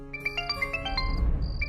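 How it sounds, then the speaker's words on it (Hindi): A mobile phone rings with a short chiming melody of bright stepped tones, clear and fairly loud over a low background rumble. "तभी अचानक ही आहान का मोबाइल बज उठा।"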